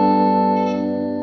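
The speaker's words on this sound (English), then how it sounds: "now I'm going to turn on the reverb pedal" An electric guitar runs through a reverb pedal set to its room setting, a loud sustained chord ringing steadily and slowly decaying with a smooth ambient tail, with no voices.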